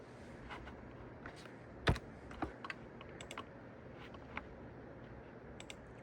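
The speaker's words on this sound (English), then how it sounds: "I'm going to set my camera down so I can type with two hands here" Someone types on a computer keyboard with both hands, a quiet, close patter of irregular key clicks with a few sharper taps, heard alone in a still room.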